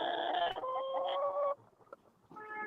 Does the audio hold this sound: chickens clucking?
yes